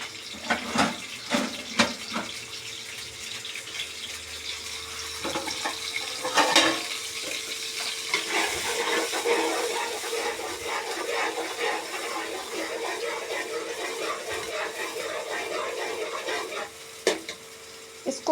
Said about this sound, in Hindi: ऑयल गर्म होने के बाद हम इसमें डालेंगे प्याज, लहसुन और अदरक का पेस्ट।